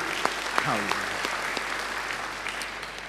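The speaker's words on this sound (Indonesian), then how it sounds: "Beri tepuk tangan yang baik bagi dia." Congregation clapping during a church service, a continuous crowd applause with a voice briefly audible early on, steady and moderately loud before tapering slightly.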